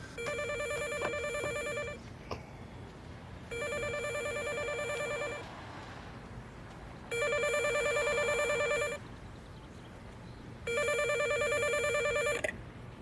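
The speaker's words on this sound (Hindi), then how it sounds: "अब किसका फोन आ गया?" A telephone rings in four long, evenly spaced bursts separated by short quiet pauses, loud and close, with no talking.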